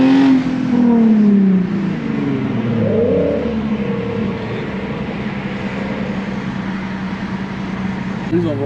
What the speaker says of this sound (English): that Mustang that revved out of nowhere too